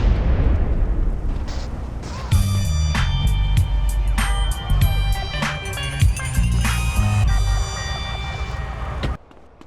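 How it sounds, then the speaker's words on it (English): A helicopter explodes in GTA San Andreas after being shot: a loud booming blast bursts in and rolls on as a long crackling roar with scattered pops and debris, fading out abruptly near the end. "You need to hit it at least twice to blow it up."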